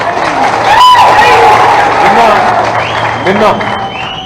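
A crowd at a political speech claps and cheers loudly, with whoops and babble mixed under an amplified voice that carries over the noise.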